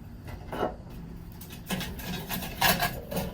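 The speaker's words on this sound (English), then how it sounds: "Get our grill grate in place." Metal grill grate set in place on a smoker, several clanking, scraping metal knocks spread irregularly over a few seconds, close and fairly loud, with no talk.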